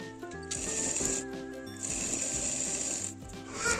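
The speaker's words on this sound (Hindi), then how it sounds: "इसी तरह से दूसरी बाजू में भी मैं सिलाई लगा रही हूँ" A sewing machine stitching a blouse sleeve runs in two bursts of fast mechanical chatter, close and moderately quiet, with a brief pause between them.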